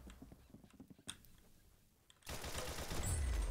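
Rapid gunfire from a weak-feeling gun in the Roblox-style shooter Arsenal rattles in a quick burst of close shots, then fades into quiet before a loud, dense wash of noise takes over.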